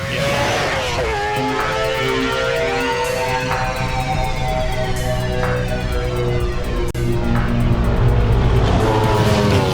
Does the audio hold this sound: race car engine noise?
yes